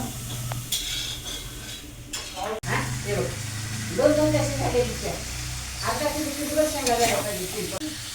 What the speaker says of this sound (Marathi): मटण पण आता ऑलमोस्ट शिजत आला असणार आहे सुक्क पण बनवून घेणार